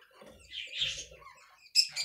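Young budgerigar chicks give faint, thin chirps and squeaks in a few short bursts, close by and quiet.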